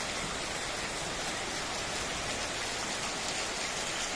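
Heavy rain pours down in a dense, even, loud hiss before a pilgrimage cycle procession, steady throughout with no voices.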